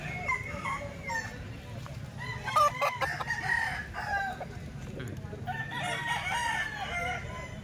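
Several golden boy roosters crow in a rainy yard, with clucking and a barking dog mixed in and someone talking over them throughout.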